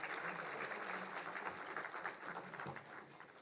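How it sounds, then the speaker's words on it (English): Conference audience clapping at a startup conclave in India, a dense, steady patter of many hands at moderate volume with no voices over it. "Let's give them a huge round of applause once again, ladies and gentlemen."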